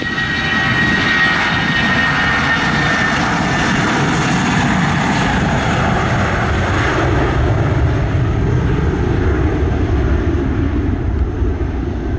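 Heavy jet airliner departing Montego Bay airport in Jamaica, its engines a loud, continuous roar that rises and then slowly fades as the aircraft climbs away.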